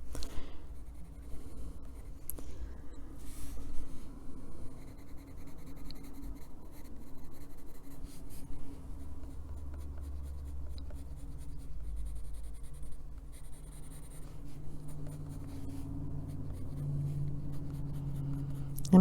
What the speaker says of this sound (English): I'm kind of turning the pencil when I'm doing the little lines, so I have a sharp point on it